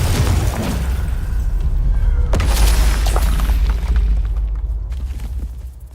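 Fiery blast spells going off in a Hogwarts Legacy battle, with a sharp explosive burst midway over a steady rumbling low roar, followed by crackling debris and fading noise.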